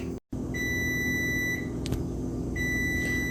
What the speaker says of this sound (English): Okay, so that's my timer dinging.